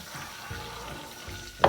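Clam juice for a spaghetti clam sauce hits a hot pan, producing a continuous sizzle with soft bubbling and a sharp burst of hiss at the end, close and unaccompanied by voices.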